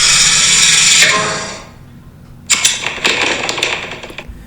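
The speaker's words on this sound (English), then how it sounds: "That's the sound of someone getting murdered by the barber." A rapid mechanical clattering burst, then a pause, followed by a second series of sharp metallic snips and clicks, a video game barber monster's scissor killing attack.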